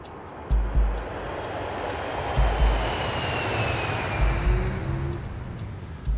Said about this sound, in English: People who live in the nearby neighbourhood of Hounslow are well accustomed to the sound of jets taking off and landing.